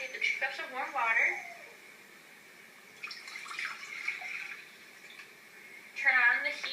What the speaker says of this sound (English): And then into the pan you want to take the 2 cups of warm water.